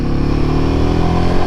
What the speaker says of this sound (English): Engine braking's nice.